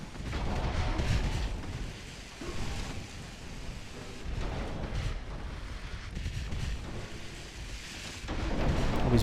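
Naval guns fire during a warship battle in Ultimate Admiral Dreadnoughts, heard as heavy booms rolling over a continuous low rumble of battle noise, with no one speaking.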